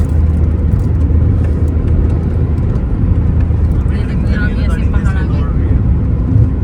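Car driven fast on the road toward Manali and Kasol, a loud continuous engine and road roar from inside the vehicle, with people talking over it.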